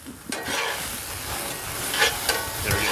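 Meat frying in a hot pan after a bourbon flambé, a steady sizzle with a few sharp scraping stirs of a utensil against the pan, close and continuous.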